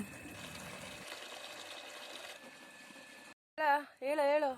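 Tap water runs while amaranth and radish greens are washed, a broadband rush for about three seconds that fades, followed by a brief burst of a voice.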